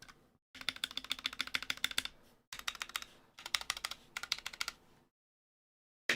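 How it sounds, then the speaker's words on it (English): Rapid clacky typing on a mechanical gaming keyboard, close up, in three bursts separated by short pauses. "This sounds like a generic keyboard, but a lot more thicker."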